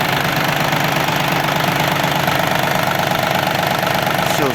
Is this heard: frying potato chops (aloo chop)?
no